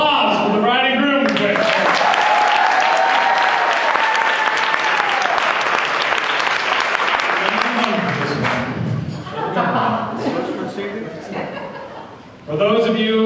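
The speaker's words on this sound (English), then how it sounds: "Like a round of applause for the bride and groom." Wedding guests applaud the bride and groom, loud and sustained. Cheers and chuckles rise over the clapping, and a voice speaks over it near the end.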